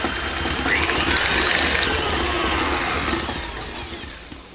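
Electric mixer whisking yoghurt and blueberry muffin batter, a loud steady whirring drone close up, holding constant before easing slightly toward the end, with no talking.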